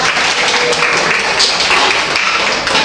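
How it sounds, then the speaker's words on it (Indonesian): A classroom of students claps for a student group, a loud, dense, even patter of hands that continues throughout. "Berikan tepuk tangan untuk kelompok"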